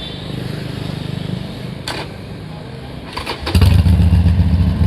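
A Harley-Davidson Sportster 1200 Custom motorcycle cranks with a rapid rhythmic chugging from its starter, pauses, then fires and catches into a loud, close, rumbling idle.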